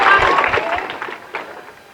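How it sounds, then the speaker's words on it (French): An audience at a lycée excellence day ceremony applauds the students, producing a short burst of dense, close clapping that thins and fades over about two seconds. "vos élèves méritent aussi des applaudissements"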